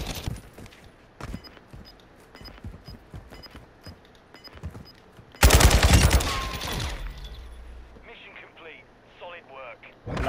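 In a shooting video game, a string of sharp, clicky gunshots is followed by one loud, dense burst of gunfire that rings out briefly before trailing into quieter mechanical sounds.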